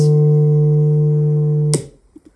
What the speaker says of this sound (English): just a straight vibration.